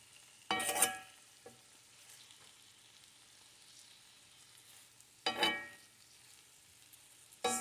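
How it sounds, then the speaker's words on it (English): Cabbage and sausage sauteing in a pan with a butter-style spread give a low continuous sizzle, broken by two loud clattering bursts of stirring. "Just let it saute"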